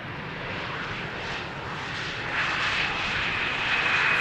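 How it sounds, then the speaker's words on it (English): A City Hopper plane from Basel landing at Amsterdam Schiphol on runway 18R, with a steady broad engine roar that swells slightly as the aircraft passes close by, and no talk. "It is a city hopper that is coming in from Basel in Switzerland"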